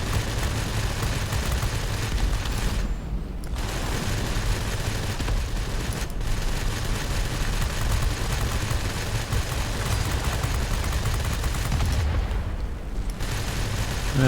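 Aircraft machine guns in World of Warplanes, flown in a Tomahawk IIb or Vampire F.1 dogfight, keep up a continuous loud roar of engine and gunfire with only brief breaks.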